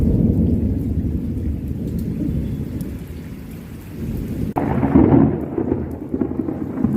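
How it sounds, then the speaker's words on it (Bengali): Heavy rain pours steadily while deep thunder rumbles and rolls, swelling louder partway through, close and enveloping with no voices. "কিরম মেঘ ডাকছে দেখো"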